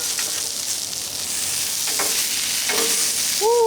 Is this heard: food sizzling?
yes